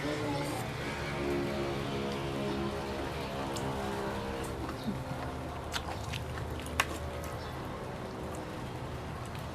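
Rain falls steadily as a dense, soft hiss with scattered drop taps, continuing through the whole stretch at a moderate, even level.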